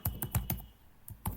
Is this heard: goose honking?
no